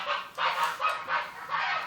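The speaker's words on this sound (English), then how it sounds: "and that's the geese" Geese honk nearby in about five loud, evenly spaced calls, with no other sounds.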